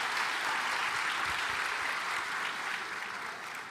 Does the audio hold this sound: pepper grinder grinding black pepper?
no